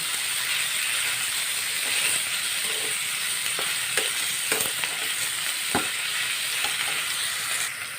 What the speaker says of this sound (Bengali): কুঁদরোইটা দেখুন অনেকটা ভাজা হয়ে এসেছে